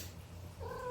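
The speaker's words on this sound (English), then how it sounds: "and that was my kitten." A kitten lets out a single short meow close by, rising clearly over a quiet indoor background near the end.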